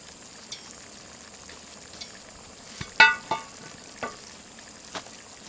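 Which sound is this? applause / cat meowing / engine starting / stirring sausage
stirring sausage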